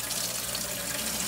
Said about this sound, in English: Going to give it a little bit of water